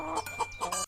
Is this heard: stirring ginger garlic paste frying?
no